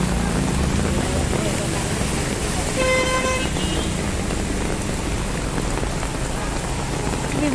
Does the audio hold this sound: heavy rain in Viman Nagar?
yes